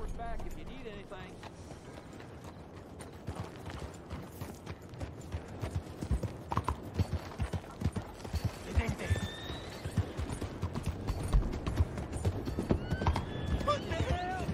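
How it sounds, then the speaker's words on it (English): Horse hooves clip-clop in Red Dead Redemption 2 in an uneven rhythm with a few high whinnies, faint and somewhat distant, under a low rumbling background. "Bring that horse back if you need anything."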